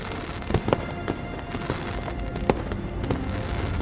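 Fireworks burst in a night sky over a festive scene, a run of sharp, fairly close pops and cracks at irregular intervals over a constant crackling rumble, with no voices.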